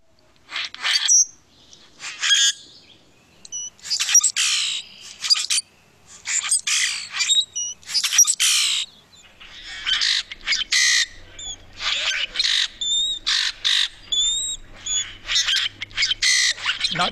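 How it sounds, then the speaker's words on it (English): Common grackle calling, a series of harsh, squeaky, grating squawks in irregular bursts, fairly close and clear, with short pauses between calls and faint low background noise later on. "Common grackle."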